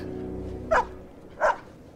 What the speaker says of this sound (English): Good dogs.